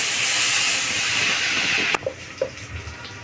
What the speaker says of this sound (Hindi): इसे चला के फ्राई करेंगे।